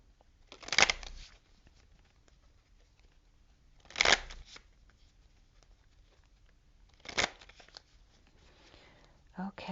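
Gilded Reverie Lenormand cards being shuffled in three short bursts spaced a few seconds apart, close and fairly quiet, with a faint bit of other handling noise at the end.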